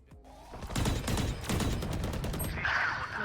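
Rapid gunfire in a tactical shooter video game, dense bursts of shots with a clicking rhythm, loud and steady over most of the clip, ending in a brighter whooshing effect.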